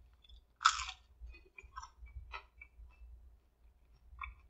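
Crunchy battered onion rings from McDonald's being chewed up close, with a loud crisp bite followed by a few softer, irregular crunches and chewing sounds, and no talking.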